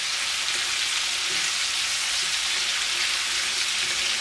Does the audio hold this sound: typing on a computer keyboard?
no